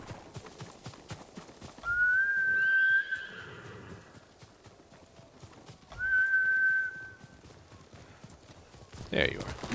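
Two steady, sustained high whistles separated by a gap over a faint scatter of clip-clop, close and fairly loud, in Ghost of Tsushima with someone calling for a horse; a later burst of movement follows.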